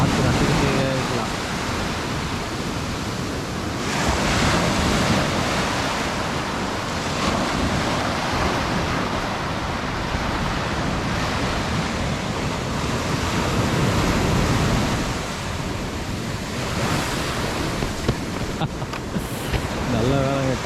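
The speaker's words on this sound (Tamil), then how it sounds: "கடலோட சத்தமே வேறு லெவல். அந்த அலை இப்போ பாருங்க, அப்படியே வரும்போது பார்த்து ரசிக்கிட்டே இருக்கலாம்." Sea waves at Varkala beach in Kerala surge and break close by in a continuous loud roar, swelling and easing in turn, with gusty wind buffeting the microphone.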